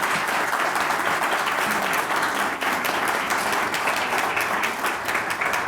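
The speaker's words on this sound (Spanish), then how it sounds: "Por favor, un aplauso para la candidata." An audience applauds a presidential candidate as she is introduced at a talk event, dense sustained clapping that fills the room at steady loudness throughout.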